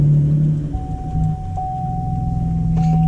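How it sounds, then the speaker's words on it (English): A Chevrolet Camaro V6 engine turns over and settles into a steady, loud idle, with a deep low rumble and a constant whine running over it for about three seconds, no voices. "so my car started"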